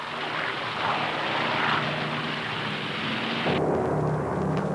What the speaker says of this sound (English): Last to go, the Douglas AD, communications link between carrier and sub-hunters at the contact area.